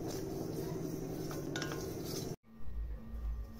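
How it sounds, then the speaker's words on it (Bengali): Cumin seeds are dry-roasted and stirred in a dry pan, with a steady rustling, scraping drone and light clinks of the utensil, a brief pause, then a lower rumble of continued stirring. "আমি শুকনো খোলায় ভেজে নেব, সামান্য একটু সেন্ট বেরোবে সে অবধি"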